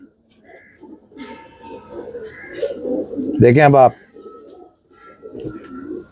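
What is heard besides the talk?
pigeons cooing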